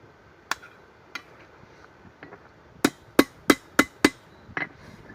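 A few scattered hammer blows on a steel knife blade being forged, then a quick run of five sharp, ringing strikes, ending with one softer hit.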